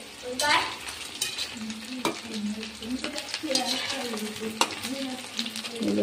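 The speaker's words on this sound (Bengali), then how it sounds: "মাংসগুলো এখন ভাজা হচ্ছে পকোড়া করে।" Marinated chicken pieces fry as pakora in hot oil, sizzling steadily close by while a utensil stirs and scrapes with occasional sharp clinks against the pan.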